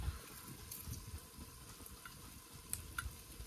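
Spices crackle as a tempering goes into a pan of olo, the Gujarati roasted-eggplant dish like baingan bharta: a faint, steady sizzle with scattered small ticks and pops, no voices.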